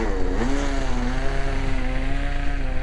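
A radio-controlled F-14 model jet powered by OS engines taxis along, its small engine giving a steady, buzzing drone with a slight pitch rise near the start, running continuously and fairly loud with no voices.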